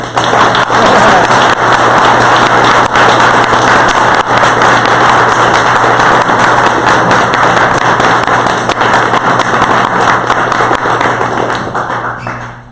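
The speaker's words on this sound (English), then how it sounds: "A big round of applause." Sustained, dense audience applause fills the room at a talk event, loud and steady for the whole stretch before tapering off at the very end.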